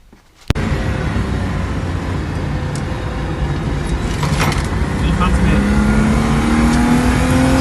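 A BMW E36 M3 track car's engine starts up abruptly and keeps droning loudly from inside the cabin, its pitch slowly rising as the car accelerates.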